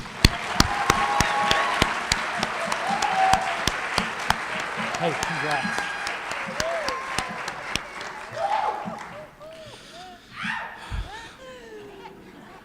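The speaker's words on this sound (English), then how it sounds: "Let's give them a round of applause." At a DCSD Bridge graduation ceremony in 2022, a crowd claps loudly with scattered laughter and whoops, the applause thinning out toward the end as a few voices speak nearby.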